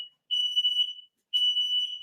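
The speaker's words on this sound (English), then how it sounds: "put her alarms to the test, setting them off in the middle of the night" A home smoke alarm sounds at night during a wake-up test, giving two long, shrill, piercing beeps with a brief silent gap between them, loud and close with nothing else audible.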